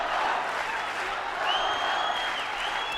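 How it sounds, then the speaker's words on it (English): Loud, sustained roar of an arena crowd cheering and applauding for their champion during an MMA fight, a dense wash of voices and clapping that holds steady throughout. "And now the crowd trying to get behind their champion."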